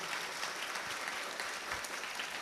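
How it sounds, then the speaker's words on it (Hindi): A room full of students at a school in Jhalawar claps together for themselves, a dense, steady burst of applause that fills the short moment without pause. "आप अपने लिए ताली बजाओ एक बार"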